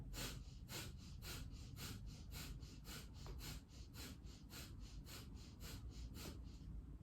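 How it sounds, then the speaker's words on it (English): Rapid, rhythmic breath of fire yoga breathing during a kundalini stretch pose: about twenty quick, forceful nasal exhales in steady succession, close and clear with no talking. "So, big deep breath in, breath of fire."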